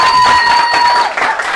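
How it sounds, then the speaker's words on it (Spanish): Brief burst of audience applause and light cheering at an award ceremony honoring excellence, with a steady high tone ringing through the clapping. "un aplauso"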